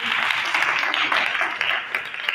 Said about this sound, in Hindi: एल्डर साहब के लिए जोरदार ताली बजाइए।